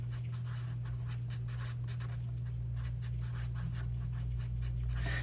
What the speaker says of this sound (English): Let me write that here.